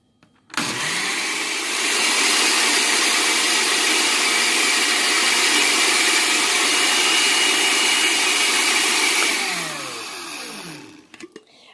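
A blender whirs loudly and steadily for about ten seconds as vitamin E oil is blended with egg white for a homemade beauty serum, then winds down, with no talking over it.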